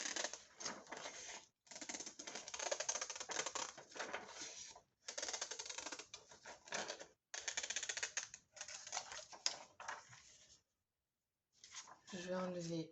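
Scissors snip through paper or fabric transfer sheet in a series of short crisp cuts with brief pauses, close up and fairly quiet, ending in a gap before a little more handling noise.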